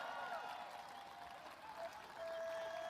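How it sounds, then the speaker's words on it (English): Faint, distant applause from a crowd at an MLB All-Star Game declaration ceremony in Philadelphia, thin and steady under a low, reverberant background. "Give him a round of applause as well."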